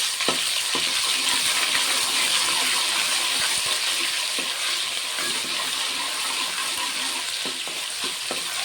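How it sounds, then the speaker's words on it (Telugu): Ginger garlic paste frying in hot oil for chicken biryani makes a loud, continuous hiss and sizzle with scattered pops and a few stirring scrapes, close up and with no talking. "అల్లం వెల్లుల్లి పేస్ట్ ఆయిల్లో వేసుకున్నాను"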